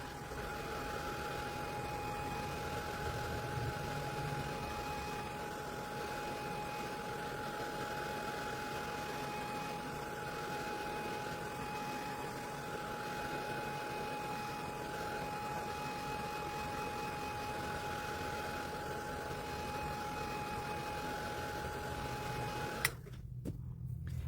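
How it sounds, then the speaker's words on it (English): A blow dryer drying watercolor paint gives a steady, loud whirring hum with a constant whine, running unbroken for over twenty seconds, then cutting off abruptly near the end. "If you do not have a nice blow dryer or heat gun"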